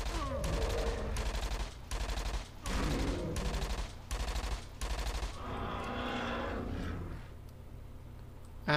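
Gunfire in a hunting video game comes as a run of loud, evenly spaced bursts, then fades into quieter rumbling and scattered noise.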